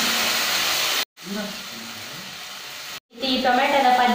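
Tomato masala paste frying in oil, a steady broad sizzling hiss broken by two brief pauses, louder and bubblier toward the end as the paste spits in the pan.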